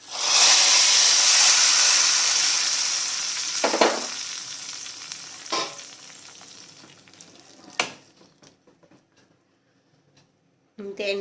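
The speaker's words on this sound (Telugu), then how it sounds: "వీటన్నిటిని వేసి పోపు పెట్టుకోవాలి" Cumin and a dried red chili tempering in hot ghee for a South Indian buttermilk stew: a loud, steady sizzle that slowly fades, broken by a few sharp crackles and spoon clatters, then a brief burst of sizzle again.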